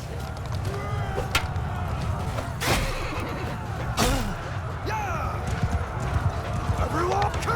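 Horse hooves clip-clopping in the medieval battle game Mount & Blade II Bannerlord, a steady trot of hoofbeats beneath a dense battlefield din of clashing, thuds and shouting, with a couple of sharp impacts standing out.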